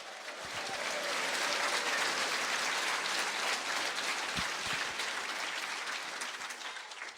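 A church congregation claps loudly and continuously for several seconds, a thick rain-like patter of many hands that holds steady, then eases slightly toward the end.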